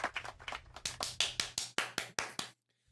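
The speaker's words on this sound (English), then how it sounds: "Look at these freaks in the back clapping" A small crowd claps in the back of a city council meeting, a dense patter of hand claps that thins into about eight sharp, separate claps before stopping abruptly.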